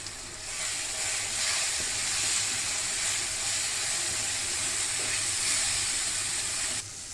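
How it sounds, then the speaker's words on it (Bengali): Mashed eggplant tipped into a pan of frying onions for an egg and eggplant khagina, setting off a loud, steady sizzling hiss that holds for several seconds before cutting off sharply near the end. "এখন ম্যাশ করা বেগুনটা ঢেলে দিব"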